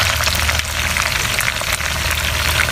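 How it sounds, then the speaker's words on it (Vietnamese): Fish frying in a pan of hot oil for a mountain-stream fish dish from the Central Highlands, a steady, loud, close sizzle and crackle throughout with no talking. "chiên cá không phải kho thì khác"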